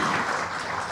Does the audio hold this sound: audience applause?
yes